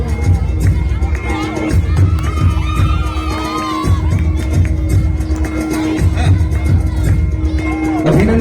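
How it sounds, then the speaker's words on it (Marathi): A crowd at a school taluka-level sports prize ceremony cheers and claps, dense continuous noise with children's shouts and whoops rising above it, while an amplified voice talks underneath. "जरा जोरदार टाळ्या म्हणजे."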